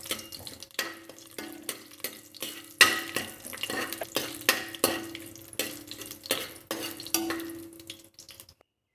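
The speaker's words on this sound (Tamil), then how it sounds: "அது கூடவே அந்த மசாலா பொருட்கள் சோம்பு, பட்டை, கிராம்பு, ஸ்டார் பூ இதெல்லாம் சேர்த்து நல்லா வதக்கிக்கலாம்" Whole spices, bay leaf, fennel, cinnamon, clove and star anise, sautéed in oil for mushroom biryani: a spoon scrapes and knocks the pan in a steady rhythm over a soft sizzle, with no talking.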